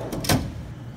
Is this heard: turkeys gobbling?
no